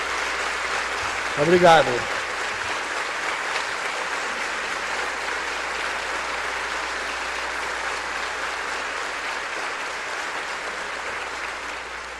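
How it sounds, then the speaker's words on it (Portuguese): Audience applause at an education-for-peace talk, a steady broadband clapping that fills the whole stretch at an even level, beginning just after a brief spoken thank-you near the start and continuing unbroken to the end. "As palmas são para a paz"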